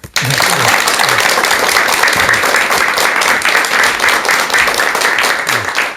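Audience at a lecture applauding loudly to welcome the speaker, dense continuous clapping that holds steady for several seconds after a brief silence at the start.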